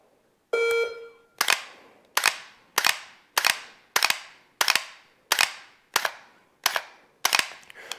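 Eleven sharp handgun shots fired one at a time in a shooting dynamics drill, loud and close with short, even gaps and a brief electronic beep before the first shot; nobody speaks.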